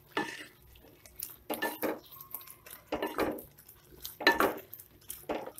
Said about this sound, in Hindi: और अच्छे से मिक्स करेंगे।